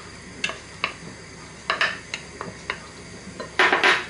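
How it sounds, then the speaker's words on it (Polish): A spoon scraping and clinking against a bowl while herring salad with dill and mayonnaise is stirred, a series of sharp close taps at irregular intervals ending in a louder cluster of scrapes. "I całość mieszam"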